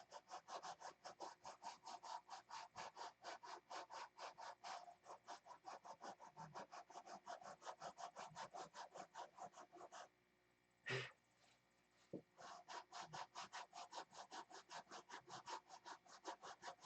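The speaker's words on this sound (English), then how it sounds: "I wonder how many hours of rubbing this is going to take." An object being rubbed by hand in fast, even back-and-forth strokes, close and continuous, pausing briefly around a single knock before resuming the same rhythm.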